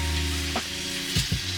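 Fish searing in a pan, heard as a loud, dense sizzle that fills the short moment, with a couple of brief shifts in pitch and intensity.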